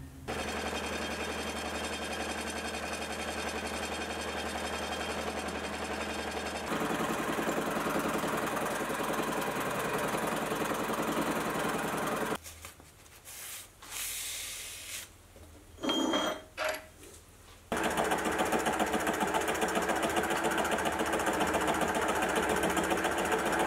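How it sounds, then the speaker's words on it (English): A fly cutter on a milling machine faces the bowed ends of hot rolled steel, giving a steady, even whirring cut that changes tone partway through, breaks into short bursts, then returns loud and continuous. "The hot rolled steel isn't perfectly square, the ends having a bowed out convex shape, so they'll be taken down with the fly cutter."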